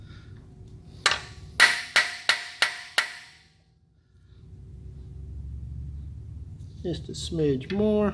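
A punch struck with a hammer to seat a drive train part gives one tap and then five sharp, evenly spaced metallic blows, close and loud, before a low rumble and someone speaking briefly.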